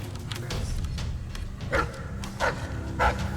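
A wolfhound barks in the video game Dishonored: Death of the Outsider, three or four short, evenly spaced woofs rising out of a low rumbling game ambience, moderately near and without speech.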